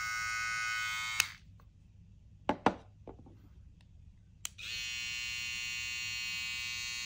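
A Troll hair trimmer fitted with a Psycho blade runs with a steady high buzz, stops for a few seconds broken by sharp knocks, then starts buzzing again.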